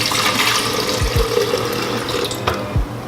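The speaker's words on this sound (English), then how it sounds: "I'm pouring some of the juice back into the blender" Green juice is poured back into a blender in a steady, close liquid stream, with a few low gurgling glugs through the pour.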